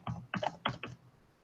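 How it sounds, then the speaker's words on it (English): Keys on a computer keyboard are tapped in a quick burst of about five close, crisp clicks that fade out, with no talking. "I'm typing stacking the deck in here"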